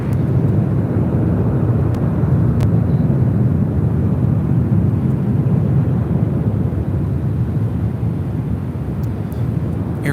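An Air France cargo freighter jet, delivered in 2002, roars loudly at an airport with a continuous deep rumble that stays strong and steady throughout.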